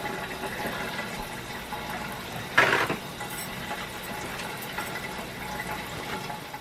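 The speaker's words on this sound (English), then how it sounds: "So I'm gonna wash these wings and I'll be back." Steady tap water runs while raw chicken wings are washed at a sink, giving a constant broad rush with one brief louder splash midway and no talking.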